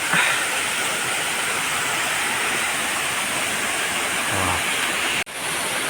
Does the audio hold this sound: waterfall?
yes